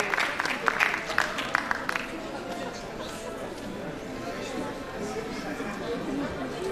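An audience at a raffle drawing applauds a winning ticket holder, a short burst of clapping at the start that quickly fades into a murmur of crowd chatter and talking.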